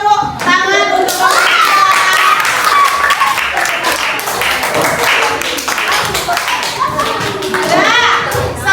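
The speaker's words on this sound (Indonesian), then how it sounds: "beri tepuk tangan untuk" A primary school classroom audience claps and applauds, a dense burst of hand claps lasting several seconds, with children's voices calling out over it.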